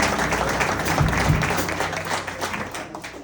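At a live music show in a small venue, an audience claps steadily in a dense wash of applause that holds for the whole stretch and fades slightly at the end.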